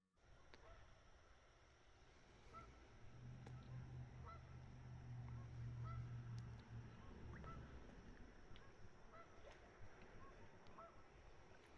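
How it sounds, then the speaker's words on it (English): Faint outdoor ambience near a gazebo with geese honking repeatedly in the distance, scattered calls over a low steady background. "Yeah, the birds are out. I hear them."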